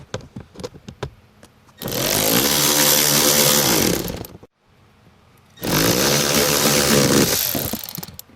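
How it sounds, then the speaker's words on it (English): A power tool tightens the blower motor resistor on a Chevy GMC truck in two loud, sustained whirring bursts of a couple of seconds each, separated by a short pause, with nobody speaking. "gonna tighten that resistor up"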